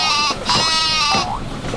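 Sheep bleating in two loud, wavering cries in quick succession, close and prominent, from a children's animal-words song.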